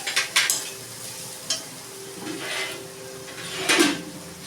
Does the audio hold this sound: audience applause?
no